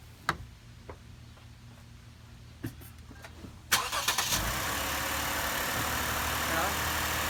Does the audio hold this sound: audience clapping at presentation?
no